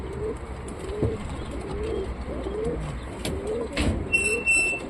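A male pigeon is released and flies off. A brief burst of wing flapping comes near the end, while soft cooing from other pigeons continues throughout.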